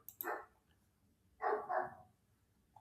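A dog gives a short bark, then after a pause a louder double bark, fairly close and alone, with no talking over it.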